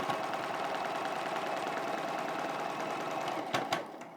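A sewing machine runs steadily while machine quilting a square in a Sun Block quilt, a close, continuous rapid mechanical hum and stitch rattle that ends with a couple of clicks.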